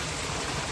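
Water pouring down a waterfall stream in the mountains, a loud, steady rushing wash with no breaks, filling the whole brief moment close by.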